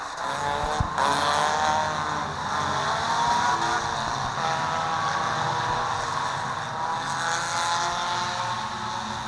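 Race cars on a dirt oval at Seven Rivers racetrack, engines droning loudly and continuously as the field slows under caution, with broad roaring exhaust throughout.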